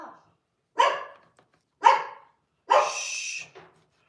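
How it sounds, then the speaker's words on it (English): A pet dog indoors lets out three loud, close barks about a second apart, the last one drawn out into a longer howl-like bark, with no talking over them. "Dogs, speaking of barking."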